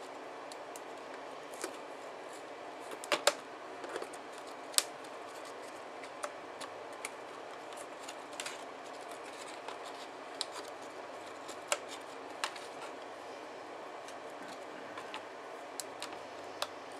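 A Boss Kut Gazelle electronic cutter slices chipboard on a sticky mat in a single pass, giving a faint, steady mechanical whir broken by scattered light ticks and clicks.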